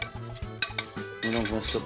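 Utensils clinking and scraping against a bowl as a tomato salad is tossed, with short rhythmic strokes and a brief rustle near the end.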